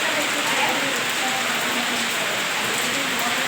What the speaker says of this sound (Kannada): ಮಳೆ ಬರ್ತಿದೆ ಇವತ್ತು ಕರೆಕ್ಟಾಗಿ.